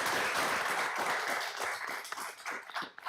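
A college board of trustees meeting audience claps, a fairly full round of applause from a roomful of people that starts strong and gradually thins into scattered claps.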